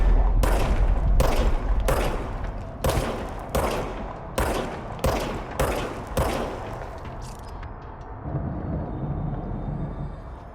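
Service weapon gunfire in the video game Control: about nine loud, evenly spaced shots ring out in quick succession, then give way to a lower rumbling game ambience.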